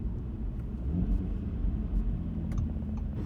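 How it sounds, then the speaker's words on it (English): Engine of a 2018 Audi RS3 Sportback heard while driving, a steady low rumbling drone with gentle surges, heard alone without talk. "the car is not exactly silent. You really have this really nice engine noise"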